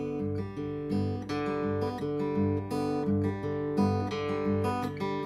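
Acoustic guitar played in a fingerpicking pattern, alternating thumb and finger plucks over simple chord shapes, with clear, close, evenly spaced ringing notes for several seconds and no voice.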